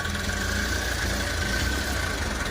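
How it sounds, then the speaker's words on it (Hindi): Engine of a Bajaj Pulsar 125cc BS6 motorcycle with about 18,190 km on it, running with a bad, rough noise; a steady, close idle drone with a constant buzzing hum and no talk. "इंजन से साउंड आ रहा है, आपको सुनाई दे रहा होगा।"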